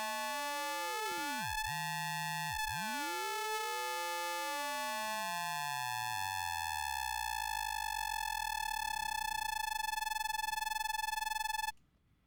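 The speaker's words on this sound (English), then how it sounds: "But if we were to do this with a sawtooth wave, there's actually a lot of sum tones and difference tones in there." Synthesizer patch amplitude-modulating a sawtooth wave through a VCA, producing a dense stack of steady harmonics with sum and difference tones sweeping, crossing and gliding together before settling into a sustained buzzy chord that cuts off abruptly.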